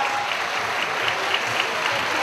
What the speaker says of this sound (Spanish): Un aplauso y la felicitación para la señora